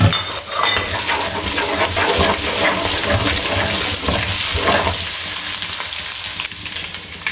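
Whole spices including cinnamon pieces, cumin, four to five cloves, cardamom pods and black peppercorns fry in hot oil for chicken biryani, giving a loud, steady sizzle and crackle throughout with no talking.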